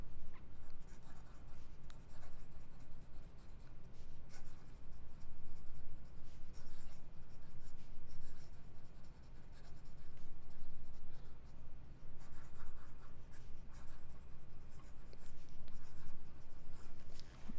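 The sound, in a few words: fast writing with a Platinum 3776 music nib fountain pen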